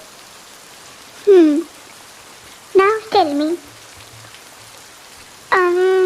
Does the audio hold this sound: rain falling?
yes